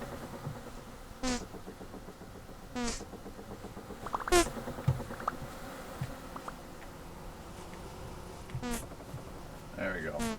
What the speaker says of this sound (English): Releases the angry hive.